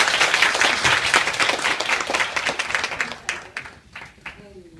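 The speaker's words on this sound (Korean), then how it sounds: "여러분들이 뜨거운 박수 주시면 강의를 더 잘해주실 것 같아요." An audience at a lecture on the Chinese cosmetics market gives warm applause. The close, dense clapping is loudest at first and thins out over several seconds, ending in a few scattered claps, with a voice overlapping near the end.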